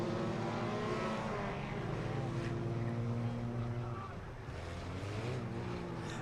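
Race cars in a figure-8 chain race at Irwindale Speedway roar together in a loud, dense engine drone with shifting pitches as they run three wide through a corner, under a commentator talking.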